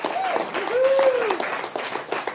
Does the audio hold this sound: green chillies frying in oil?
no